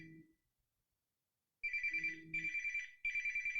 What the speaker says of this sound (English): No, the phone is ringing.